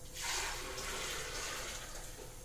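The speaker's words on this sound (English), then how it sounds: "what we're going to do is pour this back in the blender." A steady rush of nut milk pours continuously into a blender for a couple of seconds, close and fairly loud, with no talking.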